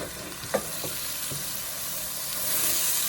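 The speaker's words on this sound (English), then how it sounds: "All you want to do now is saute this." Tomatoes and kale sautéing in a metal pot give a continuous close hiss and sizzle, with a couple of soft knocks early on and the frying swelling slightly louder toward the end.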